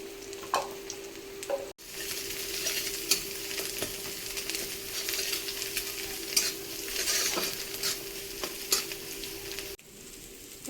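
Chopped onions and chillies fry in a pan, a loud, steady sizzle with occasional stirring scrapes and two brief drops in the hiss, close and without talk.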